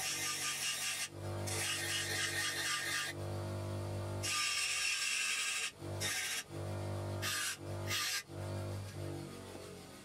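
An Opti Grind GQ-D13 drill bit sharpening machine grinds a broken drill bit, rasping in repeated bursts, harsh and close, with a steady motor hum underneath and brief pauses between passes.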